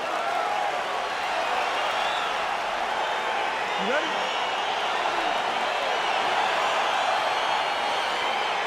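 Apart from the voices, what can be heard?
crowd cheering in UFC 4 video game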